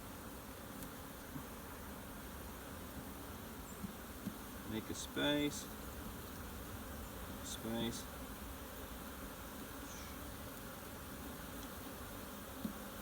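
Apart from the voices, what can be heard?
honey bees buzzing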